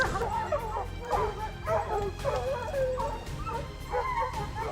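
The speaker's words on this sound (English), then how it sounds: "Once the dogs detect a bear, they chase it and bark loudly, alerting the hunter." Hunting dogs chasing a bear bark and yelp loudly in a rapid, overlapping chorus, close by, under a constant background rumble.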